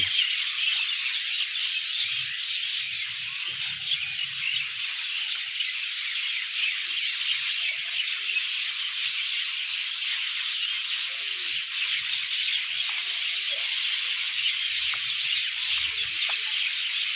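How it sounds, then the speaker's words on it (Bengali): Sparrows and other birds chirp at dusk near trees in Baliya, Dhamrai, Dhaka, forming a dense, steady, high-pitched chatter that runs unbroken throughout, with no voices. "সন্ধ্যার এক মুহূর্তে পাখি যেন কিচিমিচি করছে"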